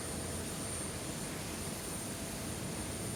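Aircraft engine running on a stand during ground engine runs, a steady, loud broadband roar with a thin high whine held throughout.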